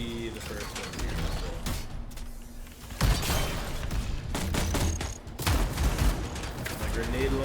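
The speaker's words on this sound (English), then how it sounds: "My grenade launcher going." Grenade launcher fire in the video game Anthem, heavy repeated bursts and mechanical clanks layered over dense combat noise, loud and close, with a voice talking at times.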